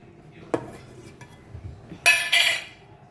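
Metal pots and utensils knock and clink in a home kitchen during ghee making: a few scattered taps, then two louder, bright clattering scrapes close by.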